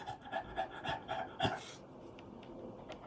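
A person imitates a panting dog with quick, rhythmic breathy huffs, about eight close bursts in the first half, then fading into quieter breaths.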